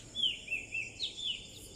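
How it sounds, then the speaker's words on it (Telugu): Several birds chirp in the early morning, giving short, thin, faint calls in quick succession over quiet outdoor air. "పక్షులు అరుస్తున్నాయి చూడండి."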